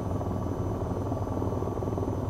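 Steady low rotor drone and engine hum of an AH-94 attack helicopter in flight in a video game, a continuous even roar with no voices over it.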